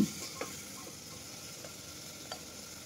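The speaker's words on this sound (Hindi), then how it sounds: "अच्छी तरह से इसे मिलाएंगे और दो मिनट के लिए इसे भुनेंगे" Tomato with ginger-garlic paste and salt frying in a pan while being stirred, a soft constant sizzle with a few light scraping taps of the spoon, no talking.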